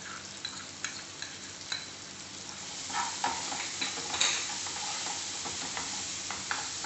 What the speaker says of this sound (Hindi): सभी को अच्छे से भून लेंगे।